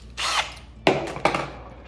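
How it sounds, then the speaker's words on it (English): Power drill boring pilot holes into a metal commercial door, running in a steady whine for most of two seconds with two sharp bites as the bit catches, close and moderately loud. "So we're gonna use this drill bit first"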